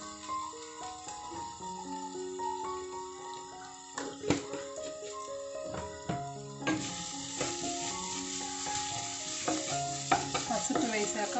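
Ginger garlic paste sizzles and fries in a pan while it is stirred for egg curry. A soft, steady frying hiss comes with a few scraping stirs, heard under loud background music and with no talking.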